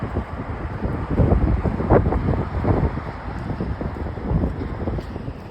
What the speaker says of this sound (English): that was a bad gust of wind right there